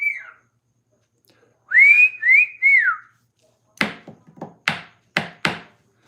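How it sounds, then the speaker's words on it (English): Pet bird giving a few clear rising and falling whistles, then after a pause banging on its cage with a string of sharp knocks of uneven spacing, close and alone. "He's like banging on a cage and he's whistling and then he bangs on his cage."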